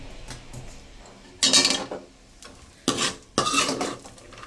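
Cashews frying in a pan for payasam, with several loud clattering scrapes of a metal spoon against the pan breaking through a low background hiss.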